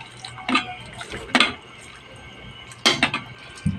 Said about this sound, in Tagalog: ito ilagay na natin ang okra